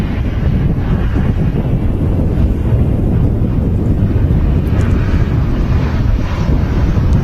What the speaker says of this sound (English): EasyJet to Jersey, just taxiing past the position here.